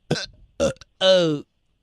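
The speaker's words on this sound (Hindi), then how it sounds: "हाँ, ये तो डकार के टाइम भी आवाज आती है" A man burps three times in quick succession, loud and close, the last one longer and drawn out, with brief pauses between them.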